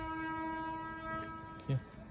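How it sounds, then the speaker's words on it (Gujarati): A train passes near a roadside dhaba setup at night, giving a steady rumble with a sustained horn tone and a brief loud burst near the end. "ટ્રેન આવી અવાજ કેવો ચોખ્ખો આવે છે"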